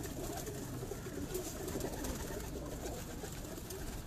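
Pigeons, including golden pigeons, cooing on a rooftop loft, faint soft coos in the background over steady outdoor ambience.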